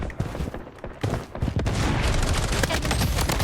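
Dense gunfire in a shooting video game where reloading is not allowed: loud rapid bursts of shots and booms that merge into a continuous roar, with no talk.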